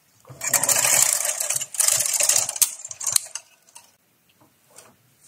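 A knitting machine carriage runs across rows of waste yarn in jersey position, giving two loud mechanical swishing passes with rattling clicks, then quieter taps and a short pause; no one talks.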